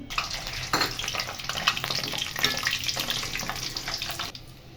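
Whole bay leaf, cardamom and garlic cloves sizzle in hot oil for an olive pickle, a fairly quiet, continuous crackling hiss that fades at the end.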